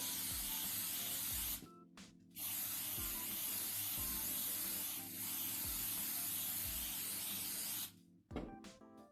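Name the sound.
spray painting a bottle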